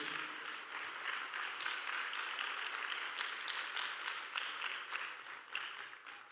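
A church congregation claps for God during a sermon, a continuous faint patter of many hands that rolls on evenly for several seconds.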